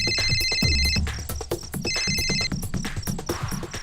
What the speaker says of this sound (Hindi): हेलो, फोन की घंटी सुनाई नहीं दे रही, आके उठा लो ना।